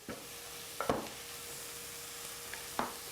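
Vegetables for vegetarian mapo tofu stir-fry in a pan: a faint, soft sizzle runs underneath while a spatula scrapes and taps the pan about four times, spaced irregularly.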